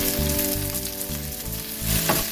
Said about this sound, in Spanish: Las vamos a sofreír aquí, así que le vamos a añadir la parte correspondiente de sal a las patatas, al sofrito.